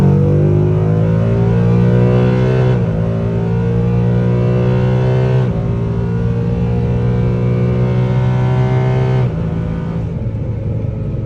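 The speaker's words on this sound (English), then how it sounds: "it also makes their engine sound way better because there's a big opening right there" A 2019 Ford Mustang GT engine revs loudly and steadily, its pitch stepping up and down a few times before easing slightly near the end.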